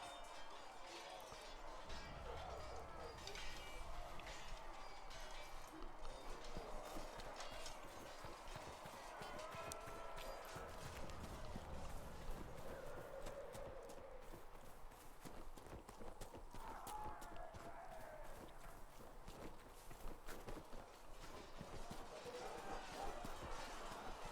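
Horse hooves clip-clop steadily in the video game Dragon Age Inquisition, a quiet, repeated rhythmic beat lasting throughout with faint game ambience.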